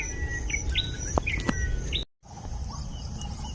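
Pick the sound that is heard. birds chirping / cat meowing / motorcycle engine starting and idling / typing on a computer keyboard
birds chirping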